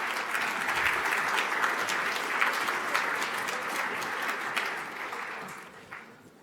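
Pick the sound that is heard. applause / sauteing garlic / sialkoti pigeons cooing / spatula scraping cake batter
applause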